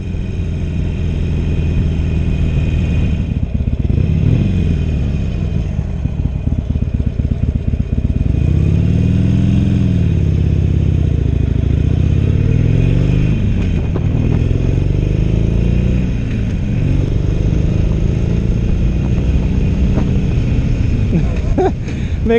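A Harley-Davidson Iron 883 motorcycle rides off, its engine rumbling loud and close with a steady low throb that rises and falls through throttle changes over twenty seconds.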